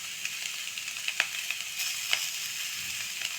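Carrot and capsicum sauté lightly in a pan, a soft steady sizzle broken by a few sharp crackles and the scrape of stirring, faint and without speech.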